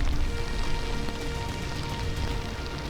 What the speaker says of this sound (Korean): 이 비 오는데 정말